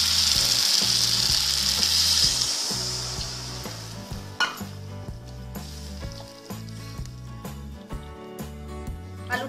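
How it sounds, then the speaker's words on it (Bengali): Water poured onto potatoes frying with spices erupts in a loud hissing sizzle that fades over a few seconds, over a steady rhythmic background tune. "এবার আমি জল অ্যাড করব।"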